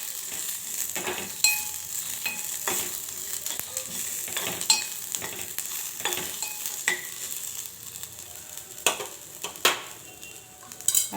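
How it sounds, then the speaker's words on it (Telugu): Coriander seeds, peanuts and sesame seeds dry-roast in a pan for a mashed brinjal curry, producing a continuous dry hiss and rustle with repeated light scrapes and taps as a spoon stirs them nearby. "ఇప్పుడు వీటిని ఒకసారి కలిపేసుకోవాలి. కలిపేసుకొని కొద్దిసేపు వేయించుకోవాలి."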